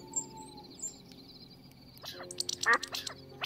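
Ducks in the Minecraft TerraFirmaCraft mod: a series of nasal quacks in an irregular cluster in the second half, over quiet game ambience with faint chirping and tones earlier.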